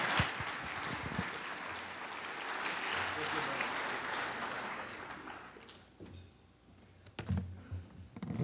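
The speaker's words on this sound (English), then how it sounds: "Let's give him a warm round of applause for being here" Audience applause at a legislative summit, moderate clapping that fills the first half, then fades into quieter room noise with a few scattered knocks and movement.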